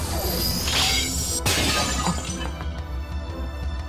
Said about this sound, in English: The fangs are pulverized, shattering without a trace.